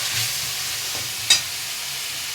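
Soft, steady sizzle of food frying in a pan, with one brief clink of a utensil partway through.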